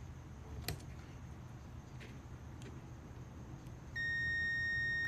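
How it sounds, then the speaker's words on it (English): A multimeter on continuity mode, its leads touching the thermal fuse of an electric dryer, gives a steady high electronic beep that starts near the end and holds unbroken over faint background noise. "You can hear the continuity beeping."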